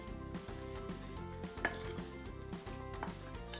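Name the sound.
mixing spice mixture for moong sprout and banana cutlets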